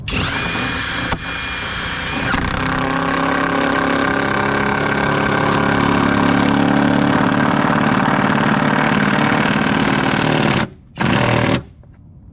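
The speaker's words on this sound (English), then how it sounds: "As I'm using the Flex 24 volt 1/2 inch cordless impact" A Flex 24 volt half-inch cordless impact driver hammers 4-inch lag bolts into a decking ledger board, a loud continuous rattling buzz sustained for several seconds, then cutting out in two short stops at the end.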